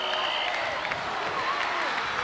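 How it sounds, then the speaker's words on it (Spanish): Applause from a stadium crowd of nearly 70,000 at a 1997 summer-season Xuxa show, a steady wash of distant clapping and cheering that fills the short stretch, with a voice talking over it. "A ver, aquí el aplauso"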